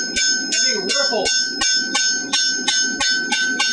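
A hand hammer strikes hot metal at a forge, smoothing ripples left by an air hammer and evening two edges into a taper. About ten close, loud, evenly spaced blows ring out one after another.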